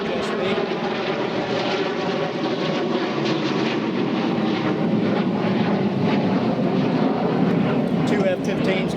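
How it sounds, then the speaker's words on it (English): Two F-15 fighter jets pass overhead in a continuous broad roar that stays loud and steady throughout, with a voice faintly present beneath it. "two F-15s going over."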